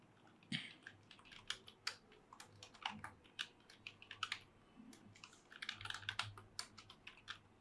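Rapid typing on a computer keyboard, with close, steady clusters of key clicks and brief pauses, heard alone without talk.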